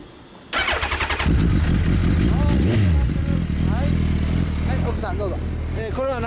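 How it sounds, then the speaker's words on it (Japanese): A 1995 Suzuki Bandit 250V (GSF250VS) motorcycle with a Danmoto muffler, in Hiroshima, starts up about half a second in and runs at a loud, steady idle with some revving. People talk over the engine throughout. "そのエンジンを聞かせてもらえますか？"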